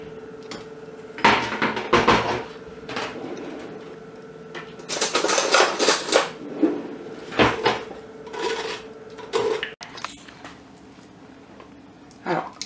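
Raspberry coulis pushed through a sieve in a kitchen, making fruit jellies: close clinks, knocks and scrapes of metal utensils against a strainer and pots in uneven bursts, with a brief rustling stretch in the middle.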